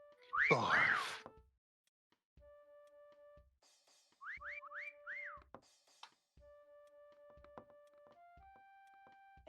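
A Meccha Chameleon video game plays a series of whistle-like tones: a loud rising whistle, then short sliding chirps and steady held beeps in separate bursts, clean with no talking.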